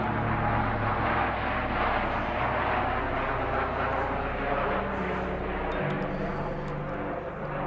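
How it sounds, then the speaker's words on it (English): A large C-130 military transport plane passes overhead with a loud, steady, deep propeller drone that stays constant the whole time, and a voice talks faintly beneath the engine noise. "I got a big C-130 flying over me."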